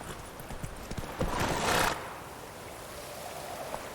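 Hooves of Geralt's horse Roach in The Witcher 3 clip-clopping at a walk, close by, with a brief whinny-like snort in the middle and quiet ambience afterward.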